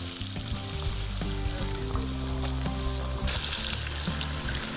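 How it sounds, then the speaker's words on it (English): Breaded rainbow trout frying in a pan for an outdoor shore lunch gives off a steady, close sizzle with crackling pops, continuous throughout and heard on its own without talk. "plopping them in the frying pan for our shore lunch with all the fixins"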